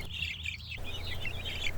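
Young meat-bird chicks on a homestead chirp continuously in a dense, overlapping chorus, fairly close and steady throughout, with a low background hum underneath.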